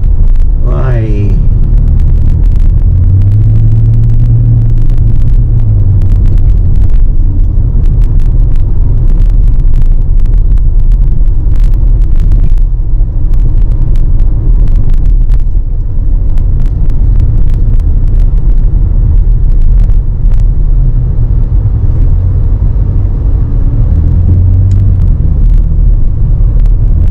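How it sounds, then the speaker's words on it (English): Street traffic on Michigan Avenue in Chicago, a constant loud low rumble of passing cars with wind buffeting the microphone, a brief squeal at the start, and a voice speaking over it at times. "Traffic today in Michigan Avenue."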